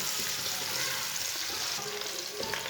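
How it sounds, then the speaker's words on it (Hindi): Finely chopped onion fries in a cup of oil for a Punjabi winter dish, a dense continuous sizzle heard up close with faint crackles and slight stirring movement throughout. "एक बरीक कटा हुआ प्याज डालेंगे। प्याज को हल्का सा ब्राउन कर लेंगे।"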